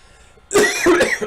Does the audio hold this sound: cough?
yes